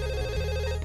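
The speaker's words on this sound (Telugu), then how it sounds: "ఫోన్ రింగ్ అవుతుందండి" A telephone rings in a film scene, a brief steady electronic trill with no voices over it.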